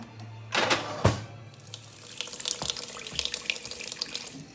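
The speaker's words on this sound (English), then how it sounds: "I'm adding a little water here to saute the onions and peppers" Water running from a kitchen tap while onions and peppers are prepared for sauteing, a couple of sharp knocks at the start, then a steady splashing stream that grows fuller toward the end.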